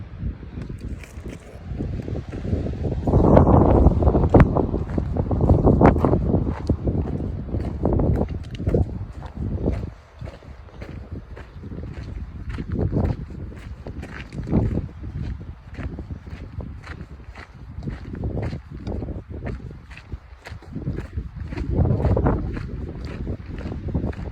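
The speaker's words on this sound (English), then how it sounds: "Extremely windy, cold." Strong, gusty, cold wind on a high mountain pass roars and buffets the microphone for the whole stretch, surging and easing in heavy waves with no voices.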